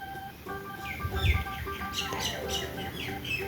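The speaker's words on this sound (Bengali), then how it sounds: "ঘুঘু পাখি ডাকছে গাছে" A dove calls from a tree in a few short chirping, squawking notes over sustained tonal sounds, close and moderately loud.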